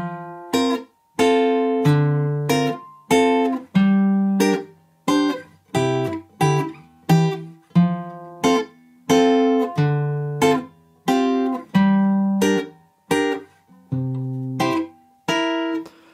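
A guitar strums the repeating chord pattern of the chorus of a song with crisp, evenly spaced attacks, each chord ringing briefly before the next, played clearly with no talking.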